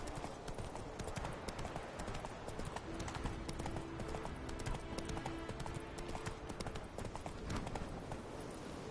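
Roach, the horse in The Witcher video game, trots with a steady rapid clip-clop of hooves that continues unbroken over ambient game sound, with no voices.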